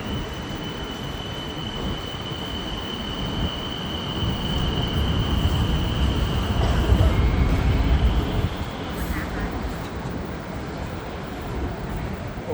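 An electric train rumbles steadily, growing louder as it pulls in, with a long high wheel squeal and a faint murmur of people nearby.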